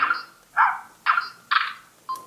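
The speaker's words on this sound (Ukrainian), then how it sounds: "звук затвора." Four short, crisp electronic shutter clicks from a Canon IXUS 75 digital camera, spaced about half a second apart, then a brief tone, close and clean with nothing behind them.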